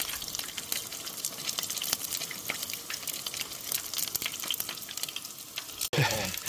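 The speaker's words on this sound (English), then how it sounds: "Listen to that sizzle." Beer-battered pike fries over a campfire, a close, continuous crackling sizzle full of tiny pops and spits that runs throughout, briefly interrupted by a knock near the end.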